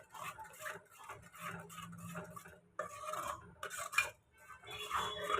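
Pav bhaji masala roasting in oil in a pan, stirred with repeated scraping, rasping strokes of a spoon against the metal, close and fairly quiet, with a soft sizzle underneath.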